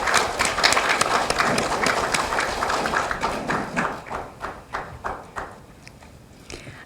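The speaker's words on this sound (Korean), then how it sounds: "박수로 맞아주시기 바랍니다." Applause from a forum audience welcoming a speaker at a Kwanhun Club debate, a dense burst of clapping that thins out into scattered individual claps as it fades.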